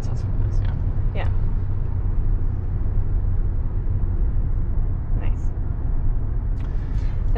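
Steady low road rumble fills the cabin of a 2021 Kia Telluride as it drives at modest speed on decent pavement, constant throughout with people chatting over it.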